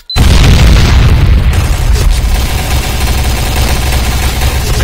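A bomb explodes in a team-deathmatch clan match of an online shooter game, a sudden loud boom that hits hard at the start and then rolls on as a dense, rumbling roar for several seconds.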